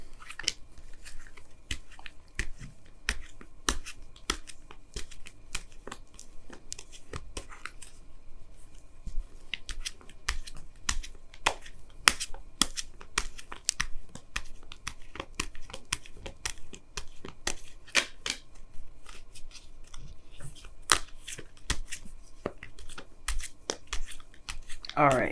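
Oracle cards being shuffled and pulled from the deck, producing rapid, quiet clicks and papery riffles that continue in bursts throughout, close to the microphone.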